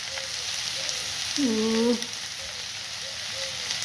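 Broccoli bhaji sizzles steadily in a pan with onions as red chili powder and other ground spices go in, a constant frying hiss with a brief tonal hum rising midway.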